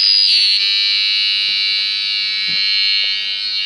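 An intruder alarm control panel with its cover removed gives a loud, continuous tamper buzz, a steady piercing drone held close and unbroken, with faint clicks of handling underneath.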